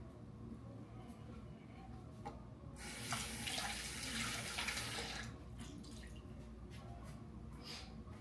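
Tap water runs for about two seconds as a sponge is wetted under it at a sink, then gives way to a few scattered drips and quiet handling in a still room.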